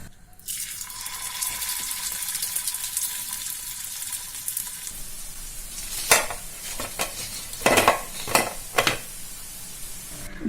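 Potato snacks frying in hot oil give a steady broadband sizzle from start to finish, broken in the second half by several louder bursts and crackles as more pieces are dropped in and stirred.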